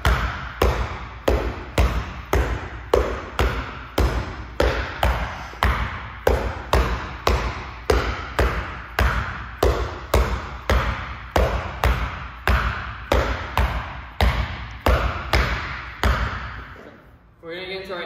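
A heavy ball or basketball is dribbled in a steady, rapid rhythm of loud, close bounces, each a sharp thump, continuing evenly before stopping at the end.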